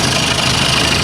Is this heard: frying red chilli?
no